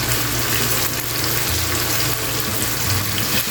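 Fried tambakol fish going into a pan of softened tomatoes for fish sarciado, giving a steady, close sizzle with a wet, watery hiss throughout and no talk.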